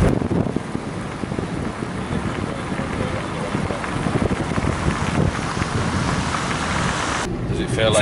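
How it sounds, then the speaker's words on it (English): Steady rain and gusting wind outdoors in misty Iceland, with heavy wind buffeting on the microphone throughout, loud and constant, and a brief change near the end. "it's just misty, a little bit rainy, but not too bad"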